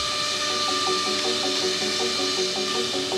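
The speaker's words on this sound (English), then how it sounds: "This is one of our CNC machines. Really cool piece of equipment. What it's doing right now is it's cutting the wallboard down to sides." A CNC machine cutting foam-core wallboard in a factory, a continuous loud whine with steady tonal hum and rhythmic scraping of the cutter through the board, no talk.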